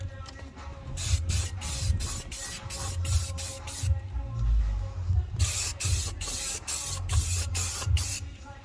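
White spray paint hisses onto an RC car body shell in short, rhythmic bursts, two runs of quick squirts separated by a brief pause, close by and fairly loud over a low background hum.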